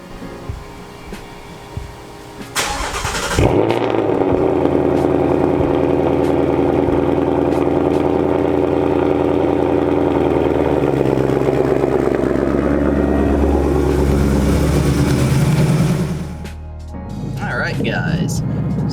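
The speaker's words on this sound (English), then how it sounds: "Now it's cold start time." A 2018 Ford Mustang GT Performance Pack V8 fires up from cold with a loud starter crank and roar, then settles into a steady, loud idle that drops lower near the end; talk is heard before the start.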